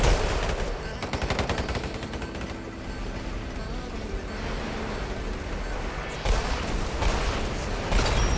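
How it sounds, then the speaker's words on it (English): Dense, loud gunfire in the Roblox Weird Gun Game during a shotgun round, with sustained rapid blasts and rumbling impacts layered over a busy, continuous game soundscape throughout. "this shotgun is very consistent"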